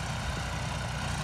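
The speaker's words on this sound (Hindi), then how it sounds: "गेहूं की बुझाई करने लग रहा है भाई, सुपर सीडर पे चलने लग रहा है ट्रैक्टर।" A John Deere 5310 tractor engine runs steadily while pulling a super seeder for sowing wheat, a continuous heavy low rumble with an even drone and no break.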